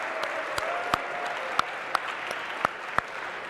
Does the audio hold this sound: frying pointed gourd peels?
no